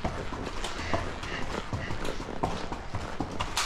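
A horse walks around inside a barn, its hooves giving a steady clip-clop of close, distinct footfalls on the floor, with a rider talking quietly over it.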